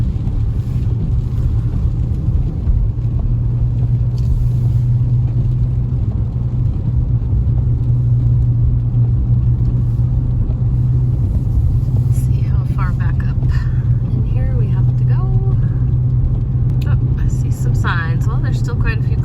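A car drives slowly past a line of parked cars, a steady low engine and road rumble persisting throughout while a person talks over it near the end.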